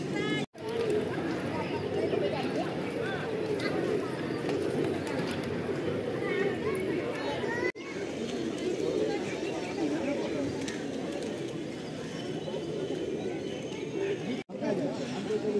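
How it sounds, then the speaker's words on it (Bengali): Pigeons coo in a low, continuous murmur across a temple courtyard at Pashupatinath, with a crowd chattering and people speaking over the birds throughout. "সব পায়রাগুলো এখানে জমা হয়।"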